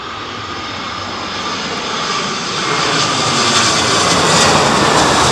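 Aircraft engines roar loud and steady at Heathrow Airport during a windy storm landing, a broad jet rumble swelling gradually as the plane nears, with no talk over it.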